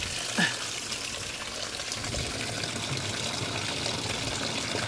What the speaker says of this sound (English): Let's flush out, rinse out the bottle and flush it out.